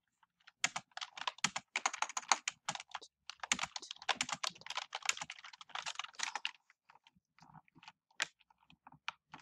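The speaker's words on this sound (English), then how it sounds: "let me type that" Rapid typing on a computer keyboard while playing a Roblox game, with dense bursts of close key clatter followed by sparser, scattered taps and pauses.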